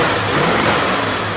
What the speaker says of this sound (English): He just likes revving it.